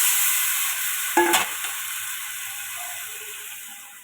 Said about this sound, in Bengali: এখন হচ্ছে আমি দিব মাংসগুলো, ছেড়ে দিব।